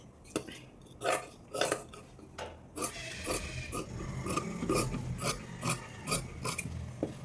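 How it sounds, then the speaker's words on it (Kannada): Scissors snip through blouse lining fabric folded double. Crisp, rasping cuts repeat at a steady rhythm close to the listener, first as separate snips and then in quicker runs, with no voices. "ಆಗ ನಾವು ಲೈನಿಂಗ್ ಮೇಲೆ ಹಾಕ್ಕೊಂಡು ಇನ್ನೂ 2 ಪೀಸ್ನ ನಾನಿಲ್ಲಿ ಕಟ್ ಮಾಡ್ಕೊಳ್ತೀನಿ"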